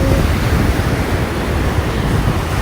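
Ocean waves wash onto the shore at Gulf Shores in a continuous, loud, close rush of surf, mixed with wind noise and with no voices.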